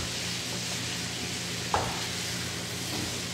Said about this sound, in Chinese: 我们把牛肉的每一面啊，都煎到有上色